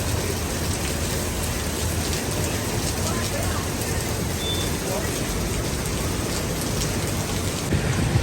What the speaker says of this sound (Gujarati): જુઓ તો ખરી કેટલો ફૂલ વરસાદ આવે છે